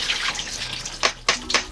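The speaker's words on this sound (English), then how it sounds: "Strain these into one colander." Soaked ponglai rice being strained into a colander in a kitchen, with close splashes and separate drips of draining water spread across a short moment.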